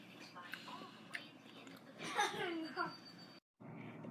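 Someone bites into and chews extra crispy fried chicken close to the mic, giving soft crunching and mouth sounds that mix with quiet voice sounds, then a brief silence.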